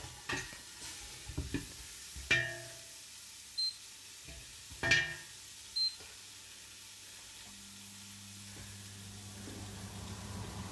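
Onions frying in a pan on a home stove for couscous, with a few sharp stirring scrapes and knocks early on over a steady low sizzle that continues quietly to the end.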